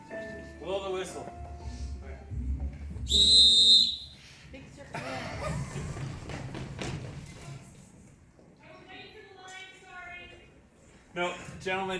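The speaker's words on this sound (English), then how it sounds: "Blow the whistle." One short, shrill whistle blast sounds clearly between stretches of people talking and singing, with a few soft thumps.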